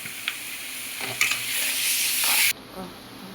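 Cumin and ginger garlic paste sautéing in a pan for mutton kolambu, a steady broadband sizzle with scraping stirs that swells louder before cutting off abruptly near the end.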